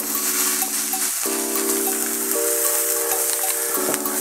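Burger patties seasoned with pepper and salt sizzle and hiss steadily on a hot frying pan, a loud continuous crackle filling the whole stretch, with a background tone changing pitch a few times.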